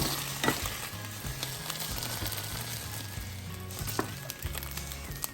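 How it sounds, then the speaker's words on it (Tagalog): Shrimp stir-frying in oil in a pan for an udon noodle dish makes a loud, close, continuous sizzle with crackling bursts and stirring scrapes, while a low repeating tonal hum sits underneath. "So now we need to stir fry the shrimp."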